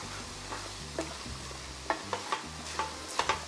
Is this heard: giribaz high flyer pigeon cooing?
no